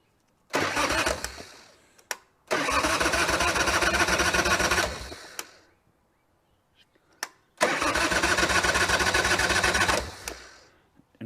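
A Harley-Davidson motorcycle engine cranks three times without firing: a short burst, a longer churning spell of about three seconds, then another long crank, each ending abruptly with brief quiet gaps and faint clicks between.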